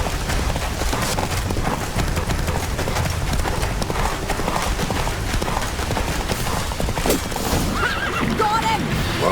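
Roach the horse in The Witcher 3 gallops with rapid, continuous clip-clop hoofbeats and lets out a neigh, heard up close over game combat noise and booms.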